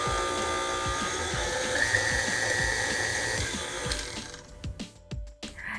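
An electric mixer whirs steadily through tiramisu custard in a bowl, a dense motor hum with rhythmic rattling beater knocks, then slows and sputters into uneven bumps near the end.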